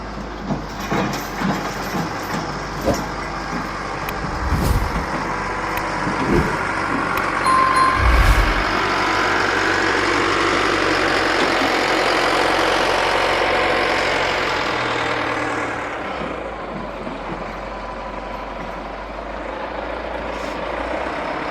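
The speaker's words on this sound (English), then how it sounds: "He's just picked up the first one and unloading it back there with his forklift." A forklift unloads a truck in a rail yard in Kitwanga, British Columbia, in the evening dark, with a steady engine drone and some clunks and thumps at the start, the engine rising then easing off.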